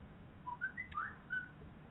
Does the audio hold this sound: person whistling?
yes